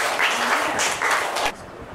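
A class of primary pupils applauds a classmate in a school classroom, a short burst of steady clapping from many hands that stops abruptly partway through.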